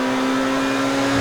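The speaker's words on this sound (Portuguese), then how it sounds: "eu queria que esse carro tivesse o som do motor mais alto" Pegassi Entity MT supercar engine from GTA 5 Online, a loud steady droning idle hum with a constant tonal whine, heard alone without talk.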